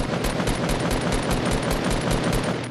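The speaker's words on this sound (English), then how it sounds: "I'm shooting him down" Rapid automatic gunfire in a Fortnite battle royale match, a steady, evenly spaced burst of loud close shots running the whole time with no talk over it.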